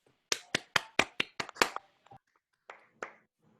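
Online meetup participants clap after a demo: a quick run of about seven close, sharp claps, then a pause and a few scattered softer claps, with no talking.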